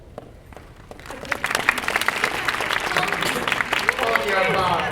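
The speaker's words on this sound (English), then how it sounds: "Hold your applause." Audience applause at a research integrity conference session, rising from scattered claps into a steady, fairly loud round of clapping that fills the room for several seconds.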